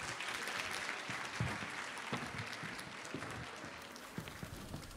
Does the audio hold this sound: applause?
yes